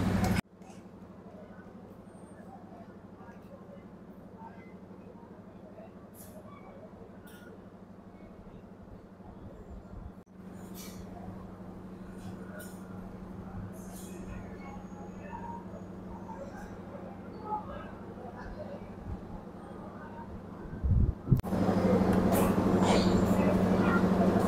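Low steady rumble of the Bengawan passenger train running between Jakarta and Solo in Indonesia, with faint clicks and creaks throughout; a louder burst of noise near the end.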